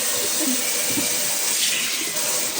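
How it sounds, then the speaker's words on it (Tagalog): Water runs steadily from a faucet into a kitchen sink as it is being washed, a close, loud, continuous hiss and splash with no talk. "Sunod naman natin itong ating lababo para malinis."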